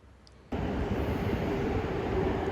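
A train arrives at a Japanese railway station on the Ban'etsu West Line route: after half a second of quiet, a loud broad rumble swells in and holds steady with a thin high whine above it until the end.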